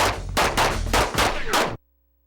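Pistol gunshots at a USPSA Limited practical shooting match, about five sharp loud shots in quick irregular succession with a short echoing tail after each, ending abruptly into silence.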